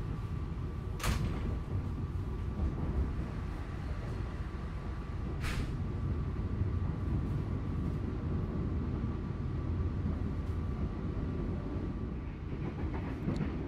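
Ranggajati economy passenger train running on rails, a steady rumbling roll continuing throughout with a couple of brief sharp clanks or knocks, no talking.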